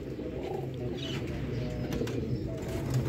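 Sialkoti pigeons coo on a city rooftop, a low steady murmuring with brief soft flutters over a constant hum of background noise.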